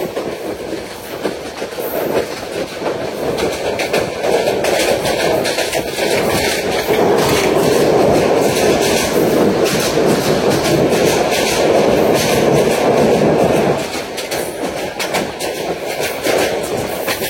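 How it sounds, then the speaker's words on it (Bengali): Mohanagar Godhuli Express passenger train crossing the Tongi rail bridge, with a loud, steady roar of wheels and carriages rumbling close by throughout, swelling in the middle and easing slightly near the end. "আর অল্প সময়ের মধ্যে আমাদের ট্রেনটি টঙ্গী রেল সেতু অতিক্রম করবে"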